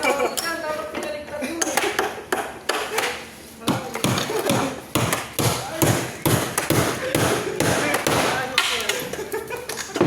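A hammer drives nails while wooden pallets are repaired in a warehouse, with rapid, loud, close blows in uneven bursts and people talking between strikes.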